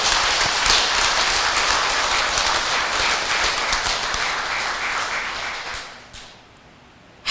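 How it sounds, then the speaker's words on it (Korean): A large audience applauds workers building a Korean-style Buddhist temple in New York, a dense and steady wash of clapping that holds for about six seconds before tapering off into near silence, with no voices over it. "그 불사의 현장에서 노력하고 있는 이들에게 우리 박수 한번 보냅시다."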